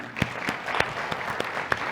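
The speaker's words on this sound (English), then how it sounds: "And can we give them a big hand of applause, please?" Audience at a business conference in India applauding the panelists on stage, a brief steady patter of many hands with a few sharper individual claps standing out.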